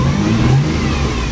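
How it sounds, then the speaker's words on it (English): A Mazda Millenia S car engine revs up, a loud, close rising roar with a steady low rumble and no one talking. "She revs up."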